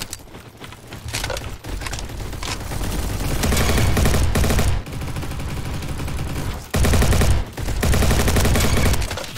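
Rapid automatic gunfire from hip firing in a shooter video game: loud, dense bursts of shots that run for several seconds, break off briefly, then resume, close and dominant.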